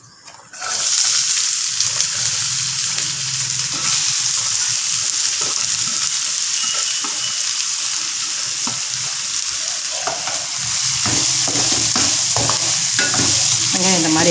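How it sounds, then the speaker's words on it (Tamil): Steady loud sizzling of finely chopped onions frying in a hot pan for mutton karipap, with occasional scraping and stirring clicks, close up and continuous throughout. "இப்போ நான் வெங்காயத்தை போடலாம்."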